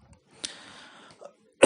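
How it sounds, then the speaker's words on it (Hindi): A single sharp cough after a breathy throat sound, with brief faint noises between, otherwise quiet. "कोरोना वाला खांसी नहीं है"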